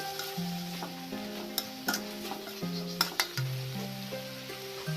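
Squid stir-frying in a pan for Thai holy basil squid with dark soy sauce added, a steady sizzle with scraping and clinks of a utensil against the pan, close and alone.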